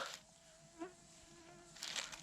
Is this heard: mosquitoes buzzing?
yes